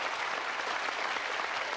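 Studio audience applause on a 1992 TV game show, a continuous, even wash of clapping from a crowd, heard alone throughout the short stretch.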